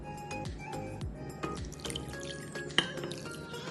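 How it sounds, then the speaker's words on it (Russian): Water is added to a homemade pizza dough mixture with egg and salt in a kitchen, heard as close dripping and splashing liquid with small clinks, steady and without talk. "Добавляем воду."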